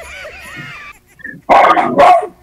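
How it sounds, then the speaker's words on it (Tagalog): A dog gives two loud, close barks near the end, preceded by a softer whining, yelping sound. "Malakas ang tahol lang aso namin."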